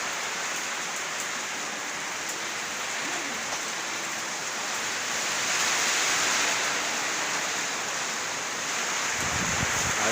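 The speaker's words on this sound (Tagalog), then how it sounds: "ang lakas ng ulan" Heavy rain with strong wind in Cavite, a dense, steady hiss of downpour that swells slightly midway, loud and close without speech.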